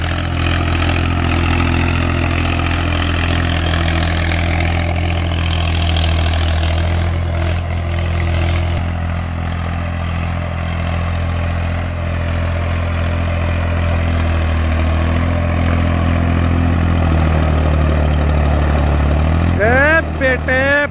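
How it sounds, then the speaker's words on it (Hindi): A loud Swaraj 735 FE tractor engine idles steadily and close by with a deep, throbbing rumble that barely changes, then a short whine near the end. "सुनो भाई ट्रैक्टर का"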